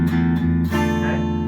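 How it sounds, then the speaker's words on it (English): Minor bar chord rooted on the 5th string of a guitar, strummed with the open 6th string ringing underneath, sounded twice in quick succession with a deep sustained low note; no talk. "Sometimes I will hear people hit the 6th string open"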